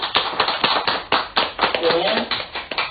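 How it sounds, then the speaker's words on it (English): Wedding guests clap in a brief burst of applause, with sharp, uneven hand claps mixed with voices nearby. "give that a clap"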